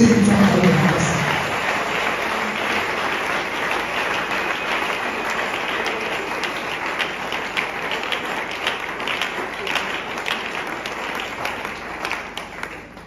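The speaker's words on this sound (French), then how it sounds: "Acclamez s'il vous plaît." An audience at a prayer gathering applauds, a dense crowd clapping that is loudest at the start and continues steadily, easing slightly over about thirteen seconds.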